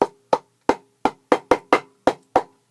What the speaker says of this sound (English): It actually kind of sounds like a drum.